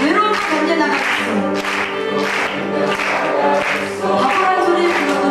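Concert audience at a Korean Kkotdaji show claps in a steady rhythm along with a sung folk song, the clapping blended under the music and voices throughout.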